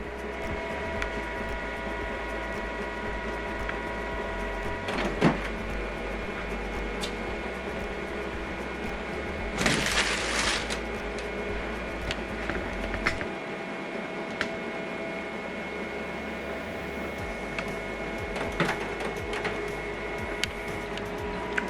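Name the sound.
HP printer running color calibration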